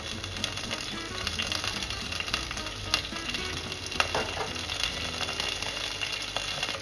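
Curry leaves sizzle and crackle steadily in hot coconut oil in a clay pot, a close, continuous frying sound with small pops and no talk.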